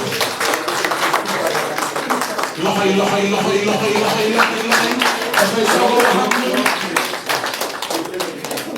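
Crowd applause at an extraordinary party congress welcoming a newly elected president, dense clapping building and swelling for several seconds before tapering, with voices mixed in.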